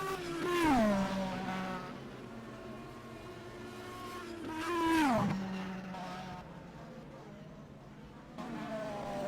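Race car in the rFactor sim spinning at Arnage during the Le Mans endurance race, its engine revs rising and dropping sharply twice, with tire squeal and skidding, fairly close and loud before settling to a low idle.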